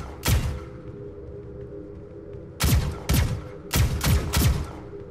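Gunfire in the Doom SnapMap video game: one heavy shot, then after a pause several booming shots in quick pairs, loud and punchy over a steady low game hum.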